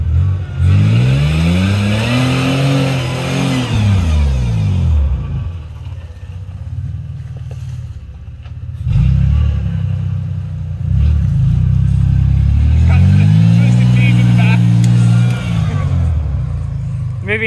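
An off-road vehicle on sand dunes, geared in first and four-low, revs hard in rising and falling surges, loud and close, with voices talking over the engine.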